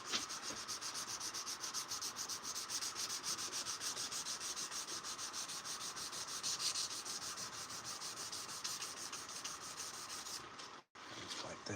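Sandpaper rubs back and forth by hand along a steel knife blade in quick, even strokes, a continuous close scratching that runs on with one brief pause near the end.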